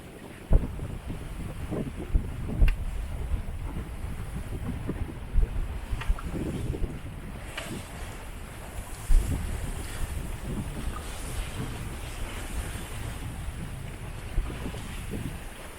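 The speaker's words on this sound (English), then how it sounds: "we had strong winds when leaving Bajadilla near Marbella in the morning." Strong wind buffets the microphone with rushing gusts and sea noise while a sailboat leaves Bajadilla near Marbella in the morning, heading along the Andalusian coast, with periodic louder thumps and surges throughout and no talk.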